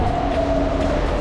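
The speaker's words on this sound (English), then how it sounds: "here's our train." A BTS Skytrain pulls into a Bangkok station, its steady rumble and drawn-out tonal whine loud and close, filling the short moment without any voices.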